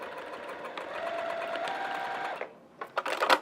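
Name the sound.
sewing machine top stitching a seam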